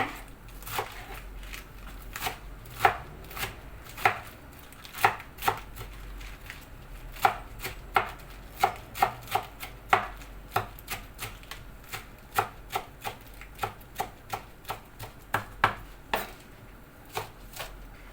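Rapid knife chopping of food on a cutting board, a steady run of sharp close taps with short pauses between bursts, no talk.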